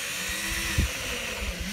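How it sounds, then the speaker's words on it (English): A steady high-pitched whine of a power drill running continuously, drilling holes in face shield parts, with a brief low thud partway through. "We're going to drill holes in them."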